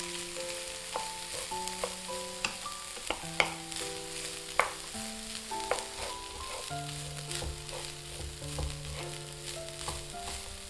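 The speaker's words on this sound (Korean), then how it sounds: "당근이 다 익으면 찬밥을 넣고 잘 볶아줍니다" Cold rice and carrots stir-fried together in a pan, giving a steady soft sizzle with scraping and stirring clicks from a utensil running throughout, and light music playing underneath.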